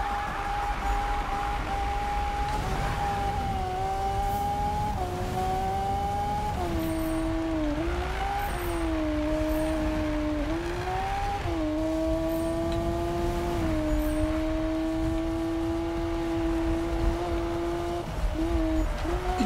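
Lamborghini engine in the Need for Speed 2015 racing game, a sustained droning engine tone that rises and shifts in pitch through gear changes and revs, steady and fairly loud with no talk.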